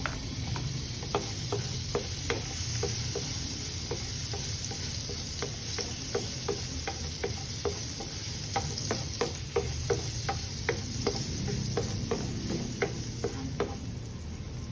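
Butter and garlic sizzle steadily in a hot pan for a crab stick casserole, a constant frying hiss broken by regular clicking taps of a utensil stirring against the pan.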